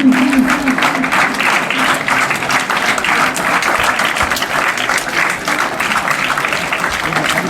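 Schoolchildren clap together at a Children's Day school event, giving a loud, close, sustained round of applause that keeps up evenly for several seconds.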